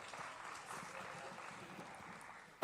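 An audience applauds at a youth livestock show in Kingwood, West Virginia, a dense, steady patter of many hands clapping at a distance, sustained throughout with a faint voice underneath.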